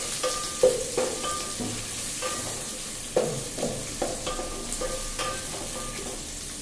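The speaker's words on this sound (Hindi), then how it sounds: "प्याज को लाइट ब्राउन करेंगे।" Thinly sliced onion frying toward light brown for veg pulao, a close sizzle broken by several sharp spatula scrapes and knocks against the pan at an uneven pace.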